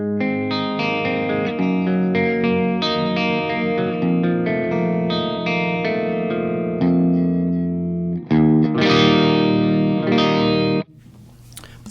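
Electric guitar played through a 3rd Power Dirty Sink 6VL tube amplifier on a clean setting, ringing chords strummed in a steady rhythm with a shimmering, effected sustain, loud and close with no talk.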